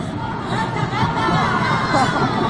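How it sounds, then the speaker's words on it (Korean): An outdoor audience at an open talk at the Busan International Film Festival claps and cheers, a dense, loud wash of applause mixed with crowd chatter throughout. "박수 부탁드릴게요"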